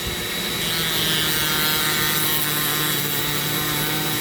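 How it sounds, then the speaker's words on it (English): Sandpaper held by hand against a zebra wood ring spun by a Dremel rotary tool, giving a continuous loud abrasive hiss over the steady high whine of the motor throughout, with no voices. "You put your sandpaper in your hand and you run it slowly."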